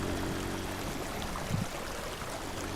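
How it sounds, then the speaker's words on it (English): Water draining through a giant suction vacuum in a video game, a steady low rushing stream that stays even and moderately loud throughout, with no voices. "let us drain all the water out here really fast, since that thing's basically a massive water suction vacuum"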